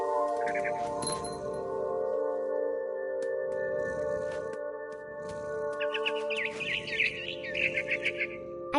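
Bird chirps from a video game ring out over a sustained, resonant tonal background, with bright tweeting bursts near the start and a busier cluster of chirps toward the end.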